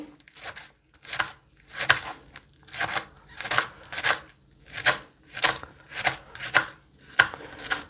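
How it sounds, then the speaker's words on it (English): A knife slices through crisp iceberg lettuce for a salad, about a dozen crunchy cuts at an even, unhurried rhythm, close and clear. "Here is ইসবারি salad. So I have to cut it properly."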